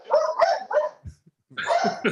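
Dogs bark in a quick cluster of sharp, close yips and barks, a brief pause, then another excited burst, loud and near.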